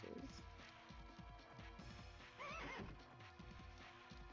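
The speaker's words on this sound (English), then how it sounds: "Sounds like a horse." A horse in a video game gives a loud whinny midway, over steady clip-clop hoofbeats that continue before and after.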